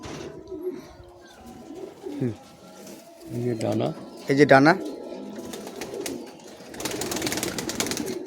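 Giribaz pigeons coo in a backyard loft, soft repeated coos rising and falling close by, with someone talking intermittently over them and a louder rustling burst near the end.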